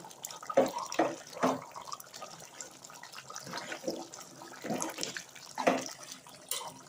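Water splashes and pours into a gongura chicken curry in short bursts, several separate gushes with quieter gaps between them, fairly faint and without speech.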